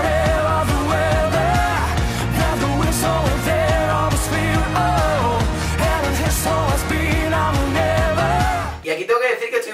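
Ukrainian Eurovision 2018 pop song, loud full-band music with driving drums, bass and vocals throughout, cutting to a sparse quieter section near the end.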